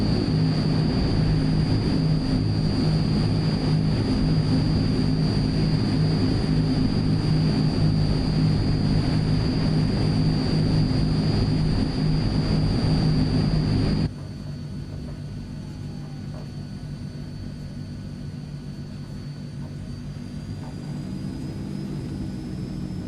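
The turboprop engines of a Transall C160 drone steadily in Microsoft Flight Simulator, with a loud low roar and a high sustained whine, then drop abruptly to a quieter idle-like hum.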